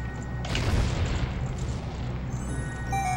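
A bomb blast from The Legend of Zelda: Majora's Mask game rings out as one loud, dense boom that swells early and trails into a rumbling tail across the short span, with no talk over it.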